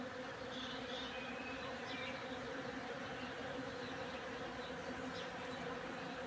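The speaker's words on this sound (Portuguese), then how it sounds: "E vem esse enxame de abelha." A swarm of bees buzzes steadily around a pitanga tree, a dense continuous drone that stays constant and fairly close throughout, with no voices.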